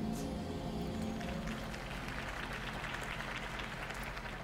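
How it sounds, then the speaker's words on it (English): Applause from a crowd follows a mayoral campaign speech in a video game, a dense, steady clapping that rolls on throughout without letup. "could have heard that applause"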